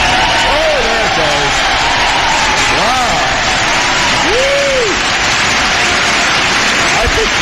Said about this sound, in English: I think I heard some applause from the Vatican.